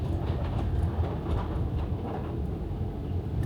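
A car drives onto a LeShuttle train carriage, a steady, loud, low rumble of rolling and engine noise inside an enclosed rail wagon, with no talking.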